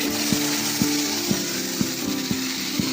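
Ground masala paste for papaya kofta curry frying in a pan with a green chilli, a steady broadband sizzle with soft rhythmic stirring knocks roughly every half second, close and continuous with no talking.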